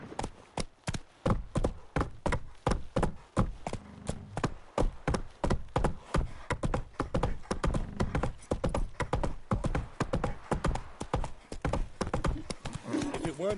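Steady horse hooves clip-clopping in The Witcher 3 game, a regular rhythmic trot of sharp knocks running throughout, with voices talking over the hoofbeats and a brief whinny.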